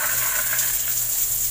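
Water gushes steadily from a newly repaired shower with a replaced knob, a close, continuous hiss with no speech.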